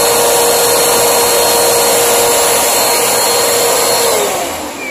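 A Bissell PowerForce Compact vacuum cleaner runs on carpet, a loud, steady high-pitched motor whine with a constant airflow roar that dips slightly at the end.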